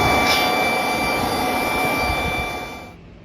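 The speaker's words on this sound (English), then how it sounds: "Chemo mini blower." Cheap handheld mini blower, a Milwaukee knockoff, drying a washed motorcycle: a steady close whooshing airflow with a thin whine on top, running evenly and then cutting off near the end.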